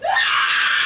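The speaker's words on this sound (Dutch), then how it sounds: "Een gil." A woman in a courtroom lets out a single loud, high, piercing scream after the verdict, rising sharply and then held for nearly a second, close and alone.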